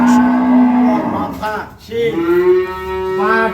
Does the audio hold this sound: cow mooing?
yes